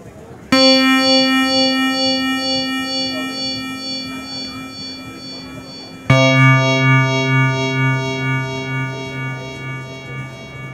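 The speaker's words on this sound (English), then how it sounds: "So you get a little ensemble effect, like a detuning." SynthTech Hyperion Eurorack effects processor running its frequency shifter for an ensemble detuning effect: a sustained harmonic synth tone enters, shimmers with slow beating, then a second lower chord is struck near the midpoint and rings out, loud and alone.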